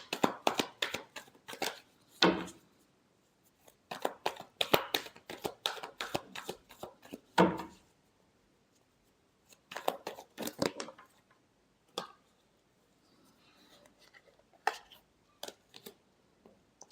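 Tarot cards being shuffled by hand in quick bursts of crisp riffling and slapping, separated by short pauses, fairly close and fading to lighter taps toward the end.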